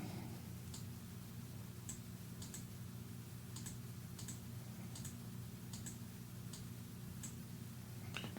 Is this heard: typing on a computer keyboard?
yes